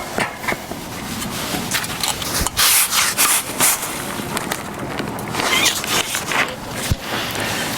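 A stiff, flat-bristled chimney brush scrapes and rubs repeatedly inside a wood furnace flue in bursts, a rough bristly scrubbing with hollow thuds and debris falling, fairly close.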